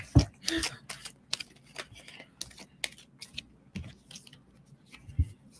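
A deck of cards is shuffled by hand in a series of sharp riffles and taps at close range, with a few soft thumps and low voices around it.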